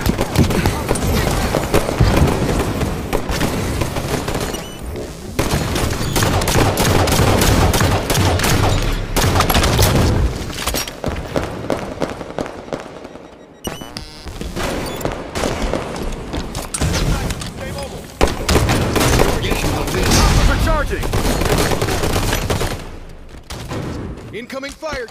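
Dense, continuous gunfire and explosions in a Halo 5 Slayer match fill the mix with rapid bursts and booms, loud and almost unbroken, while voices call out over the action.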